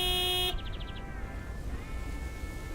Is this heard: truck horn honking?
yes